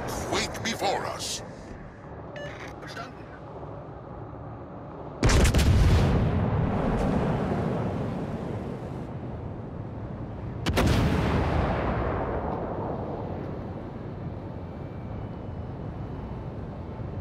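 Heavy warship guns in World of Warships: Legends fire two loud booming salvos, each with a long rolling decay, over a bed of battle ambience and intermittent speech.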